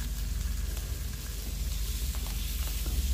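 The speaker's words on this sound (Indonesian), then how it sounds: "Kita aduk-aduk lagi. Kemudian kita masukkan tahu." Tofu and hot-water-soaked dried shrimp sizzle steadily in a pan while being stirred, for an oyster mushroom dish; a constant close hiss runs throughout, with scattered faint clicks and scrapes and no voices.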